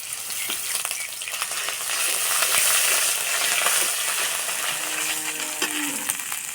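Nigella seeds, a bay leaf and garlic paste fry in hot oil with a steady, loud, crackling sizzle, punctuated by brief pops and a stirring scrape near the end.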